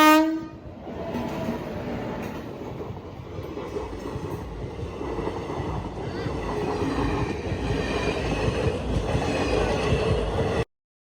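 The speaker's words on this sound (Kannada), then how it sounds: "ಸಿಗ್ನಲ್ದಾಗ ಇಲ್ಲಿ ನೋಡ್ರಿ ಟ್ರೈನ್ ಇಲ್ಲಿ ನಿಂತ." A train stands at a railway signal on the way to Bagalkot, its horn sounding loudly at the start, followed by a steady rumble of rail cars and wheels that continues without break for about ten seconds.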